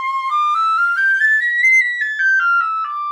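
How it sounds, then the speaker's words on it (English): A piccolo plays a bright, high melodic line that rises smoothly and then falls, loud and piercing, solo with no talk. "And this is a piccolo, which you will see is a lot smaller than the flute, so it will play a lot higher."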